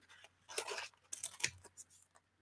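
Scissors snip paper for a junk journal cover in a few short, crisp cuts with rustling between them, close and fairly quiet.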